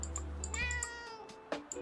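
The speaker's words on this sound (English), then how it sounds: "Meow." A cat meows in the cozy video game Tiny Bookshop, giving a few short, close mews over a soft music bed, with no talking.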